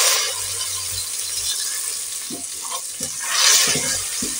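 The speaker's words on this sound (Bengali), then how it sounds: "পেঁয়াজটা একটু ভেজে নেব।" Onion paste sizzling in hot oil with bay leaf, cinnamon and cardamom, a steady loud frying hiss joined by occasional clicks and scrapes of a spoon stirring the pan.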